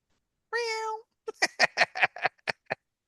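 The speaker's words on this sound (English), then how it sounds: "more meows are yet to come" A cat gives one drawn-out meow, then a quick run of about eight short, choppy meows or chirps in a steady rhythm, loud and close with nothing else around it.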